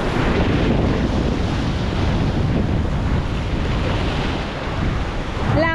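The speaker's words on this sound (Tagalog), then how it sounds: "Laki ng alon." Loud, continuous rush of big ocean waves crashing and churning nearby, with heavy wind buffeting the microphone throughout.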